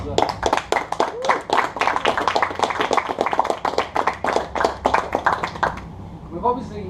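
Applause at a league presentation day: a steady round of hand clapping from a gathered audience, dense and even for about six seconds before fading to a few scattered claps.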